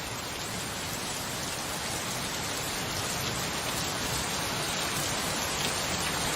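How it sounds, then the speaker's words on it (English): Rain falls in the point-and-click game Gemini Rue, a dense, even hiss of steady downpour that fills the whole scene without pause or variation. "The rain must be interfering with the terminal."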